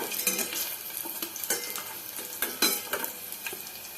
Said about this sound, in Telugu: తోటకూర పప్పు తాలింపండి.